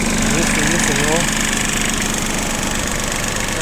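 An Iseki Sial TF223 4WD mini tractor with a very short exhaust runs steadily at a constant idle in minus 25 degree frost, close by, with a dense, unbroken engine drone throughout.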